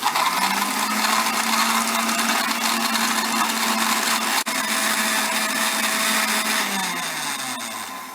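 An electric blender whirs loudly and steadily, mixing milk, sugar and Rooh Afza into a milkshake, then winds down as the motor is switched off.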